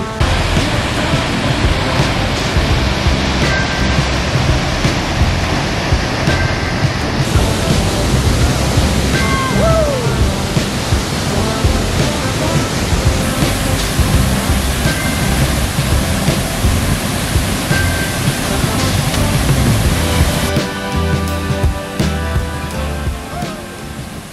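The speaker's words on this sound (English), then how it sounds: "Coming up to the falls." Waterfall on the Berg Lake Trail roaring as a loud, steady broadband rush close by, continuous for the whole stretch with a few faint bird chirps over it.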